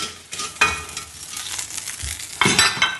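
Oxtail beef browns in a pot for a slow braise, giving a steady crackling sizzle with bursts of louder spitting and stirring scrapes, close and lively, with no talking.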